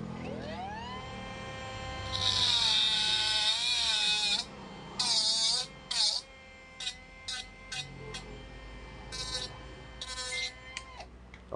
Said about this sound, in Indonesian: Pakai gerinda.